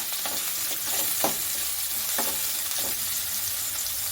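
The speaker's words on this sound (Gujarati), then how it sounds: "તો તેને સારી રીતે આપણે મિક્સ કરી લઈશું" Green garlic and white onion stirred into a sizzling pan while making cabbage Manchurian, a steady close hiss of frying broken by a few scraping stirs, with no voices.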